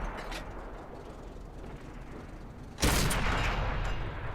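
A tank cannon in World of Tanks fires a tracking shot. It comes as one loud, sudden boom that breaks over a steady engine rumble and then rings on as a broad, fading roar.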